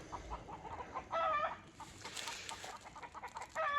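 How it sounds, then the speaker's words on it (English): Chickens cluck at a family home, with several bursts of clucking over a steady outdoor background, growing louder near the middle and again at the end. "forgive the chicken sounds"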